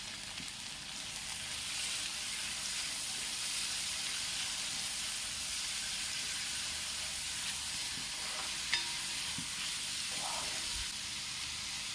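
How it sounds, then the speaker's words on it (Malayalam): Chopped onions sautéing in leftover frying oil in a pot for beef biryani masala, giving off a steady, continuous sizzle and hiss with a few faint clinks. "അപ്പോൾ വീണ്ടും ഞാനൊരു 4 സവാള അരിഞ്ഞത് ഇട്ട് കൊടുക്കുന്നുണ്ട്. ഇനി നമുക്കൊന്ന് വഴറ്റിയെടുക്കണം."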